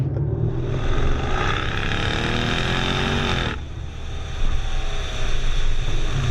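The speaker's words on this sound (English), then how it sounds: "That is one surprisingly good sounding engine." 2020 Cadillac CT6-V engine while driving on bumpy roads, a loud, rising engine note under wind and road noise that drops sharply at a gear change, then resumes building, with no talk.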